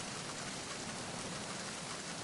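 Steady, dense rain hiss in Metal Gear Solid 2: Sons of Liberty, an even downpour filling the whole stretch without letup, no voices over it.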